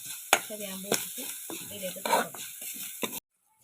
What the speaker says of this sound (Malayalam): തേങ്ങ വറക്കണം